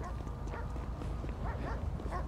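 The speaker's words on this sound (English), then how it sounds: "Don't you bark at me." A police K9 dog barks in a Los Santos police game scene, short yips scattered over a constant background hum, fairly faint and mixed with other game sounds.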